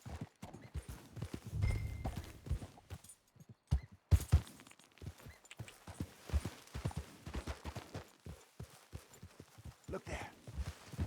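Galloping horse hoofbeats in Red Dead Redemption 2, a steady rhythmic clip-clop of a ridden horse on a trail, close and fairly loud, with a brief pause in the pounding partway through and a faint voice over it.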